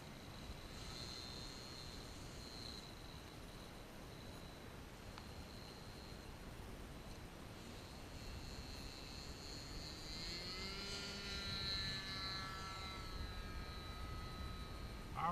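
A Kadet LT-40 model airplane sits at the flying field with its warmed-up engine running, giving a steady, fairly distant drone whose pitch rises slightly toward the end, with no talking.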